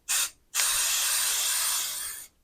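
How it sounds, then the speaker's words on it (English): Basting spray from an aerosol can hisses onto a square of quilt batting: a short burst, a brief pause, then one long, steady spray of nearly two seconds, close and loud. "and just spray it on there really quick."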